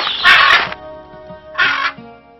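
Two loud, harsh squawks from cartoon parrots caught in a bag, a short burst then a second one after a pause, close and alone.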